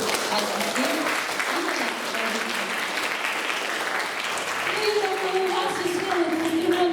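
Applause from a crowd of families at a ninth-grade graduation and certificate ceremony rings out for parents, a thick, steady clapping that carries on for several seconds while a voice speaks over it.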